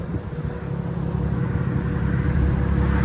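A straight-piped 2007 Acura TL Type S backs up with a deep, steady exhaust rumble at idle that grows slightly louder over a few seconds.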